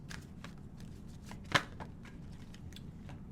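Cards are shuffled by hand nearby, a series of soft papery riffles and taps with one sharper snap in the middle, otherwise quiet.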